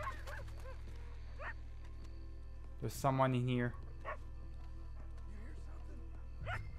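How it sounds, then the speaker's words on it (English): A dog in a cemetery in Red Dead Redemption 2 lets out one loud, drawn-out bark-whine lasting about a second, with fainter yips around it and a person talking. "There's a dog in here."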